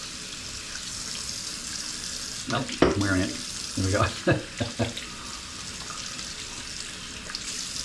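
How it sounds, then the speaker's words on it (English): Water running at a bathroom sink with a few quick splashes of cold water while shaving, bursts of splashing near the middle over a steady faucet hiss, with a brief spoken remark. "I'm just gonna do a couple of splashes of cold water"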